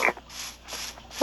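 A dog in the Minecraft video game gives short yips at the start and end, with a soft, whimpery quality and a quiet gap between them.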